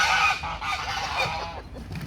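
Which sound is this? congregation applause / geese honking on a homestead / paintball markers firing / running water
geese honking on a homestead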